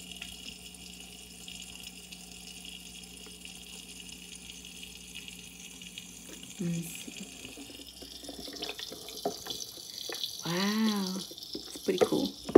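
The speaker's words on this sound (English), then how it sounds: "so add a little bit more water" Water trickles and splashes as more is poured into a small indoor Buddha water fountain, quiet at first and then louder bursts near the end, while a person talks briefly.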